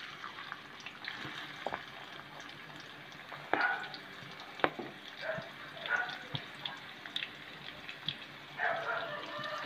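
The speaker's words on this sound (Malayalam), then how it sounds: "എണ്ണ ചൂടായിട്ടുള്ള നമുക്കിനി സവാള ഇട്ട് കൊടുക്കാം" Sliced onions frying in hot oil in a pan, a quiet, steady crackle and sizzle broken by soft pops and occasional stirring scrapes.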